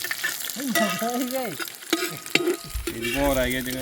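Chicken is stirred with seeded dried red chilies in a frying pan: continuous hot-oil sizzle with scraping spoon strokes, and a voice sounding over the cooking at times.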